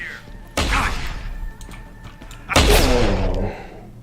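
Two heavy shotgun blasts from Deus Ex: Human Revolution ring out about two seconds apart, each a loud, sharp boom trailing off into a reverberant decay.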